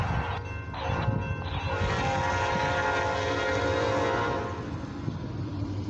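An eastbound FWLI CFE mixed freight and steel train approaches a road crossing, its horn sounding in several blasts over a steady rumble that builds and stays strong before easing slightly, heard from a distance with no talking.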